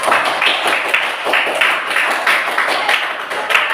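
Children in a classroom clap together in dense, steady applause close by, a continuous patter of many small hands with no talk over it.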